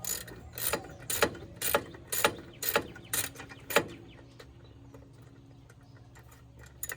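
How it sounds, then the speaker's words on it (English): A 19 mm wrench tightens a bolt to press a clutch pulley off a snowmobile drive clutch, giving six or seven loud ratcheting clicks in an even rhythm, then a quieter stretch with faint mechanical noise. "get your 19 millimeter, and you're just gonna tighten this up. Until it pushes that pulley off"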